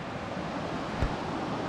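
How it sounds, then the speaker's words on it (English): A creek flowing beside a campsite, heard as a continuous, fairly loud broadband rush of water mixed with some wind buffeting on the microphone, with no voices. "Right by a creek."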